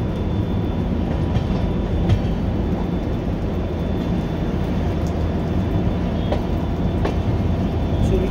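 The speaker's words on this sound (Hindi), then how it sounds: "चूरू में भी ट्रेन काफ़ी मुड़ रही है" Intercity Express train 22471 rounding a curved section of track near Churu, heard on board as a constant loud rolling rumble with sparse metallic clicks and squeals from the wheels, no talking.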